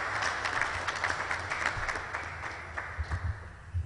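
A crowd at an official announcement event breaks into a steady round of applause, dense clapping that holds for several seconds and tapers slightly toward the end.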